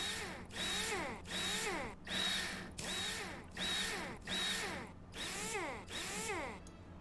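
Power tool unbolting a rover part in Rover Mechanic Simulator, a series of seven short whirring bursts with rising and falling pitch, evenly spaced and close, alone without talk.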